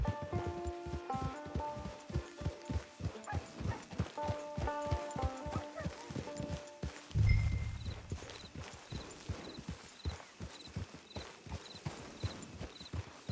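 Steady clip-clopping of a horse's hooves at a brisk walk in the video game Red Dead Redemption 2, rhythmic and close, over a soft music bed, with a brief snort or thump partway through.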